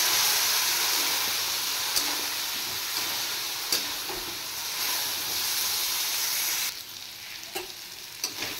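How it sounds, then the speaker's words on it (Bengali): Spices fry with a splash of water in a pan, giving a loud, steady hiss and sizzle up close, broken by a few sharp clinks of a utensil, and the sizzle softens near the end. "মশলাটা ভেজে নেব।"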